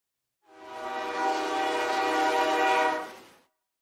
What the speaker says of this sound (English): Goots, I want to see that train